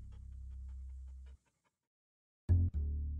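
A dog pants and whimpers in the video game Milo and the Magpies, in two close, fairly loud bursts separated by a stretch of silence.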